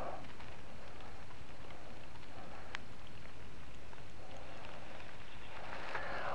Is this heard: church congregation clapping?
no